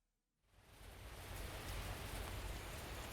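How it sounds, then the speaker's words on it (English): Heavy rain pours steadily in the rainy city streets of the video game Kikokugai, rising from near silence to a dense, constant hiss that holds loud and even to the end. "the ceaseless pouring of the rain"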